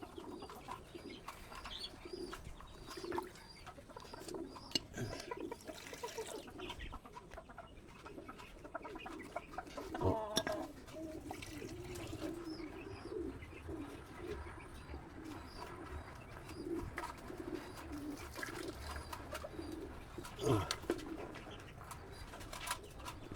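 Pigeons feeding in a loft give soft repeated coos and clucking calls over a steady low murmur, with scattered pecks and fluttering movement throughout.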